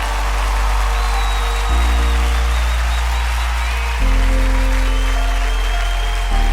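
Sustained audience applause fills a crowded hall at the Aadujeevitham (GoatLife) film audio launch event, loud and continuous throughout with steady clapping over a low hum of stage amplification.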